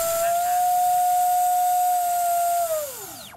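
An F5J glider's electric motor, running with its prop removed, holds a loud steady whine at one pitch for a few seconds, then winds down in a falling sweep as it spins to a stop.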